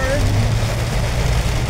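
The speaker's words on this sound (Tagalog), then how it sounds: "Ulan." Sudden rain pouring onto a street in Saudi Arabia, a dense, steady hiss of drops close by, with a low rumble beneath and a brief voice at the start.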